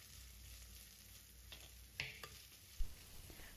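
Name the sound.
sautéing garlic, carrot, capsicum and beans in oil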